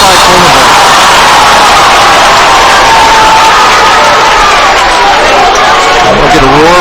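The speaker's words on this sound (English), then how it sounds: "We'll get a roar from the Bluffton crowd." A crowd roars in a packed high school gym during a Bluffton boys' basketball game, a loud sustained wall of cheering with a commentator's voice running over it.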